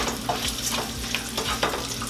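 Bacon frying in a pan, a close, dense crackling sizzle with scattered pops and light spatter throughout.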